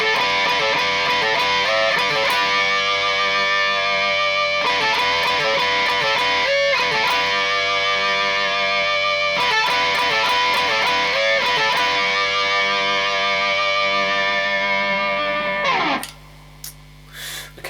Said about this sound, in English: you see all that extra distortion is really helping the sustain there